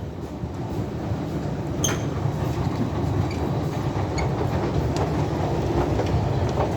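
A train moving through Berlin Hauptbahnhof, its steady low rumble of wheels and carriages filling the whole stretch at a constant close level, with faint rail clatter and a few brief squeaks on top.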